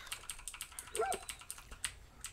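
A dog in the video game Far Cry gives a short yelp or bark, layered over steady computer keyboard typing that clicks throughout.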